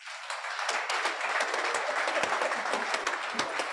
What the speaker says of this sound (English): Once again, a round of applause for the representative of Director of Cooperative.